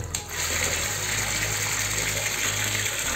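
Water gushes hard and steadily from a bathroom tap driven by a booster pump, a loud, close, continuous rush under a low pump hum, with a short click at the start and no talking.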